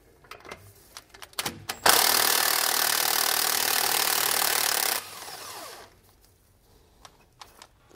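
An air ratchet with a 13mm socket spins steadily for about three seconds, removing a brake line bracket bolt from the axle of a 2017 Chevrolet, with scattered metallic clicks and handling noises before and after.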